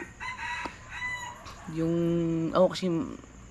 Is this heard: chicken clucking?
yes